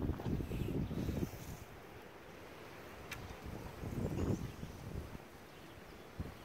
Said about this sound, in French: Malgré le vent, elles sont là.